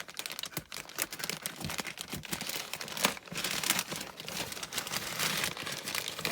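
Kraft paper wrapping being torn and unwrapped from a parcel, a steady run of close, busy crinkling and crackling with sharp rips throughout.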